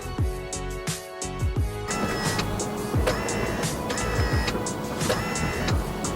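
Pop-up headlights on a Japanese Isuzu tuner car whir up and down under an electric motor, a close, steady mechanical buzz with repeated short clunks as the lamps start and stop moving.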